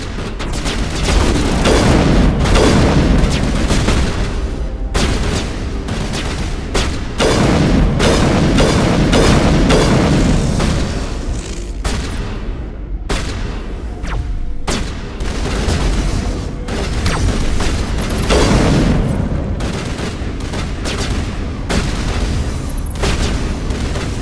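Heavy gunfire and booming explosions in the Mass Effect Legendary Edition video game: loud, dense bursts of shots and blasts keep going almost without pause, with a few brief gaps, and there is no talk over them.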